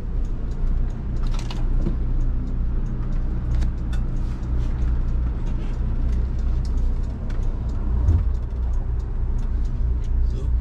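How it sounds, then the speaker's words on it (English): Road traffic in Gilbert, Arizona, heard as a steady low rumble of vehicles and engine drone from inside a Prevost coach, with occasional clicks and rattles over the constant hum. "So there's a little bit of traffic right now"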